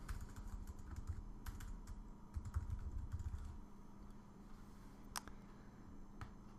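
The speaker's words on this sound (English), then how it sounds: "So I'm going to type in view controller." Quiet, close keystrokes on a computer keyboard tap in quick irregular bursts, then thin out to a few isolated clicks against a low background hum.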